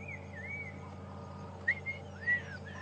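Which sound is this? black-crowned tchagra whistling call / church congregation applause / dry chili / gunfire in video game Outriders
black-crowned tchagra whistling call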